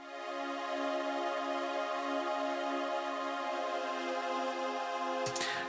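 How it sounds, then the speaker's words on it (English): A lush sustained synth pad, the Gloria preset from the reFX Nexus Sounds of the 90s expansion, holding a warm chord evenly for several seconds before cutting off, with no talking. "it's actually called Gloria in reFX Nexus, and it's from the expansion Sounds of the 90s"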